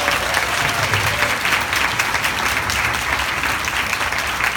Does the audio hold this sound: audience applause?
yes